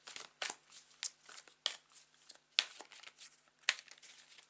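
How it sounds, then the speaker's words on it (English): Soft, close crisp riffling and slapping of tarot cards being shuffled, in irregular quick bursts, quiet with no talking. "relaxing as I shuffle the deck"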